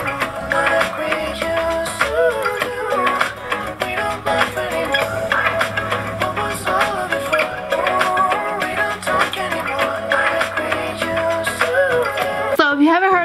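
A pop duet plays continuously at a fairly loud level with sung vocals over the beat, and a brief cutoff near the end.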